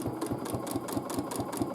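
A domestic sewing machine stitches feather-shaped quilting motifs, its needle thumping in a steady fast rhythm, close and continuous with no talking.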